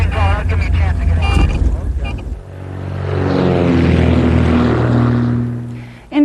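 A light training airplane does a touch and go, its propeller engine droning and swelling into a loud, steady pass that fades off at the end, following a stretch of talk.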